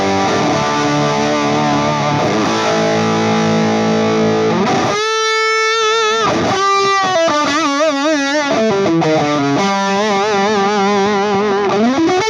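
A distorted electric guitar plays sustained chords and then bending, vibrato-laden lead notes through a loud, saturated EL34 tube power section and 4x12 cabinet, with no voices.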